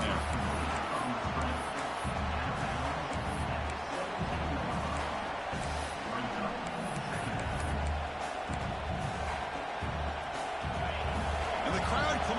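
A stadium crowd in College Football 26 roars in a dense, unbroken wash of cheering and clapping with a low rumble, steady throughout and partly under a voice talking.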